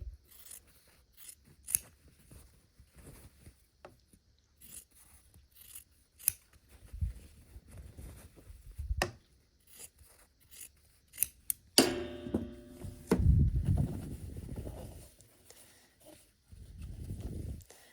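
Scissors snip off the corners of a scrappy sampler quilt block, leaving a quarter-inch seam, in a series of quiet, separate cuts, followed by louder rustling and handling of the fabric.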